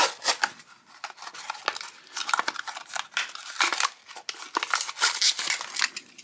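Plastic blister packaging of a Matchbox 60th Anniversary mainline toy car being ripped open, with close, irregular crinkling, crackling and tearing that comes in quick bursts.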